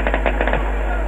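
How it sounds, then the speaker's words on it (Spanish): Fireworks go off from nearby buildings around Parque Central in Montevideo, celebrating a Nacional goal against Peñarol; several rapid distant crackles and pops sound under a loud, hissy radio broadcast line. "Buenos fuegos artificiales, pirotecnia de los edificios acá cerca del Parque Central."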